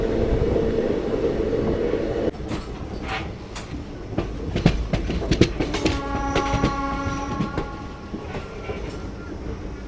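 The Kakinada Town–Mysuru special express rolls along with a steady rumble and clickety-clack of wheels on rail joints, the noise dropping partway, then brief metallic clanks and a sustained tonal whine or horn-like hum near the end.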